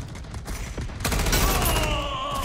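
A machine gun fires in an online shooter game, rattling in a dense continuous burst that grows louder partway through, with the sustained clatter filling the clip.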